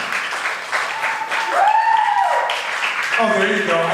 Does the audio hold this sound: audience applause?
yes